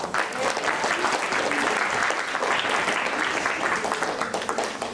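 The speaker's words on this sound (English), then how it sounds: "welcome them with a loud round of applause" A large audience at a children's literature festival applauds loudly and continuously, a dense wash of clapping from start to finish.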